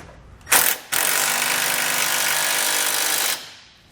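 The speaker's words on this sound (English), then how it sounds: "I'll come back with my 19mm and snug it down as well." A 19mm tool snugs down the hex nuts of TorkLift tie-down bolts on a 2020 GMC Sierra 2500: a brief sharp burst, then a loud, steady mechanical whirr for about two and a half seconds before it stops.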